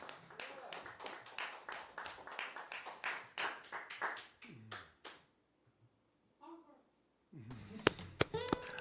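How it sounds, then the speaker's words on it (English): Host claps along alone at the end of a live trio set, a run of close, sharp hand claps for about five seconds, then near silence and brief talk. "that's me clapping along"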